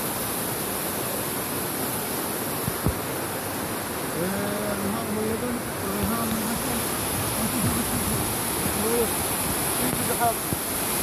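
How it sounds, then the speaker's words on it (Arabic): A river flows steadily where two rivers meet, a constant rushing wash of water at moderate loudness, with someone talking over it partway through. "ها هذا عجيب النهر."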